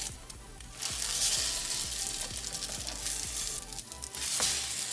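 French toast bread sizzles steadily in a pan of hot olive oil, a close, continuous crackle with faint scraping or stirring clicks on top and no voices.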